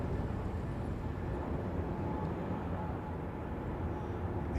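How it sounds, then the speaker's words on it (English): A United 767 jet at London Heathrow passes low overhead, a steady broadband roar that holds at a moderate, distant level without letup. "This looks like a United Jet 767."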